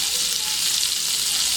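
Chicken malai boti frying in a frying pan after being brushed with oil, a steady, even sizzle with a dense hiss that runs unbroken and alone throughout.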